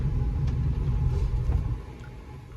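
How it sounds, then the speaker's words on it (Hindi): Road traffic, a steady low rumble of car engines close by that eases toward the end. "तो थोड़ा सा ट्रैफिक हो रहा है इधर"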